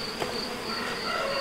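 Honeybees buzz around a hive in a beekeeper's first-year apiary, a steady close drone with a high whine and passing individual bees.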